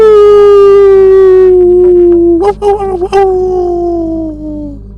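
A human voice imitates a long, mournful dog howl, loud and sustained, with a wavering break midway before it slowly fades.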